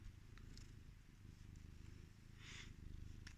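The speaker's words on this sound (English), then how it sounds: "Can you hear him purring?" A soft, steady cat purr rumbles close by, low and continuous, with a faint rustle and light movement noises.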